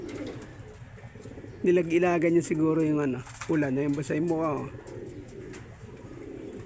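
A racing pigeon coos in a few rounded, repeated phrases up close, while a person talks quietly in the background.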